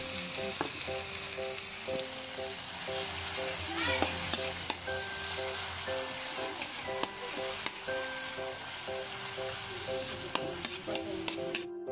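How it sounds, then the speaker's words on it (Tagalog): Bagoong shrimp paste sautés in a pan with a soft, steady sizzle and crackle, broken by clinks and scrapes of a utensil stirring. Faint sounds from the background run beneath it. "Siyempre, gigisahin natin yung bagoong para masarap."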